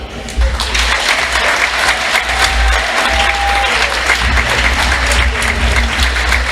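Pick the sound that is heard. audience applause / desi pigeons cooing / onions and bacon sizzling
audience applause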